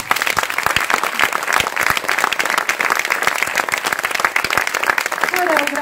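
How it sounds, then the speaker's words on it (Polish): Loud, dense audience applause fills the hall at an anniversary celebration of a community self-help centre in Kluczbork, sustained throughout with crisp individual claps, and a voice briefly rises over it near the end. "Jeszcze raz brawa!"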